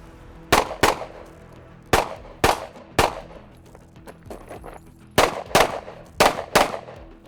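Rapid gunshots from pistol and rifle fired at targets on a range, loud close cracks in paired bursts with brief gaps, ten shots in all, no speech.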